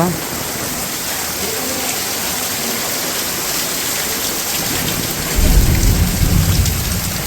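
Heavy rain pours steadily onto a village house construction site where masonry work has been covered, with a deep rumble of thunder swelling near the end over the dense, constant downpour.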